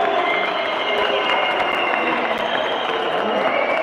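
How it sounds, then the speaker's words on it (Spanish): A futsal crowd at a Jorge Newbery versus Nueva Chicago match fills an indoor court with dense, continuous applause and whistling as the teams come out, a broad, sustained roar with no single voice standing out. "unos aplauden, otros silban"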